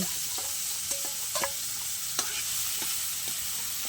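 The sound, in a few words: sautéing food in a pan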